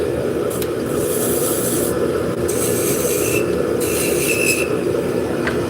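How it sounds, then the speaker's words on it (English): A V-shaped beading scraper cuts beads into spinning wood on a lathe, giving a loud, continuous rasping scrape with a low motor drone beneath and brief lighter pauses as the tool shifts. "I'm going to use this beading tool. It's just pretty much a scraper that's V-shaped."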